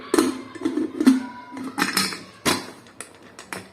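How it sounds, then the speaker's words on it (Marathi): Metallic clanks and clatter of a pressure cooker lid being fitted and locked, several sharp knocks and scrapes close by, with no talking. "आता आपण कुकरचं झाकण बंद करू"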